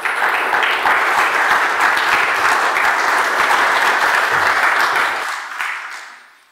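A hall audience applauds a discussion panel as it is welcomed onto the podium, with steady, dense clapping that holds loud for about five seconds before tapering off and fading out.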